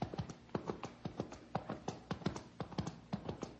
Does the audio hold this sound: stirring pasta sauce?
no